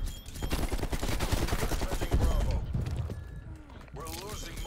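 An RPG rocket launcher fires in the Black Ops Cold War shooter game, a dense run of loud, rapid blasts and mechanical clatter that fades into quieter game noise, with a voice near the end.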